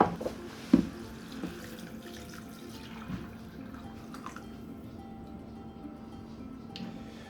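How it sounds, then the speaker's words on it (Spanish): Tap water runs steadily into a pot of black beans cooked with sofrito, with a soft clunk near the start and quiet kitchen background around the constant pour. "Ahora le agregaremos el agua"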